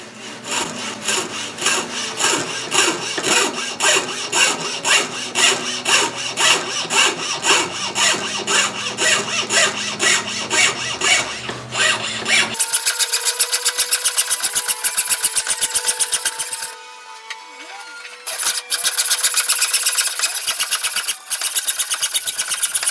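Steady, rhythmic rasping of an abrasive tool sanding the wood of a Gretsch Van Eps guitar before lacquer, loud and close, shifting to a smoother continuous whir partway through with a brief dip.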